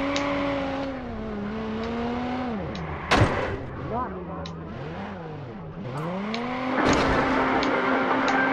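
A car engine in the video game Watch Dogs revs and drones, its pitch sweeping up and down, with a couple of sharp thuds like a door or impact.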